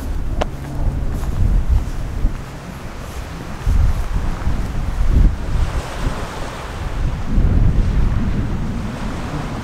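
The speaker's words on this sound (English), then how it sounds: "I didn't thought it would be that windy, guys." A strong, cold outdoor wind roars and buffets the microphone in loud, surging gusts that swell and ease over several seconds, continuous and close, with no one talking.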